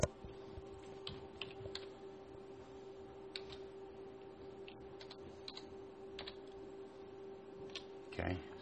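Light, faint clicks of typing on a computer keyboard, sparse and irregular over a quiet steady hum, with a louder clatter near the end.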